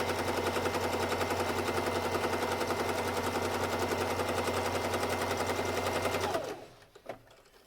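Sewing machine running a zigzag stitch, a fast steady mechanical chatter that holds loud and continuous for several seconds before stopping abruptly, followed by a small click.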